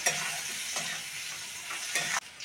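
Potatoes frying with onions in oil give a close, steady sizzle, with a few soft stirring scrapes and a brief dip just before the end.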